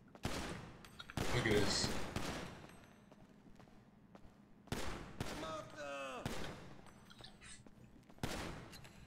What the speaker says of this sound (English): Time to go for the shooting range.